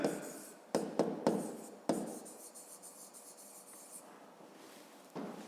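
A pen writes out a fifth-grade math exercise solution on paper: a few sharp taps and short scratchy strokes up close, then a stretch of softer continuous scribbling, with no talking.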